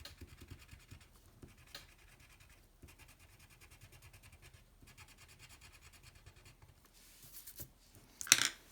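Crayon scratches across paper during a coloring exercise, soft repeated strokes in short bursts that are quiet and close, ending in a sharper scrape.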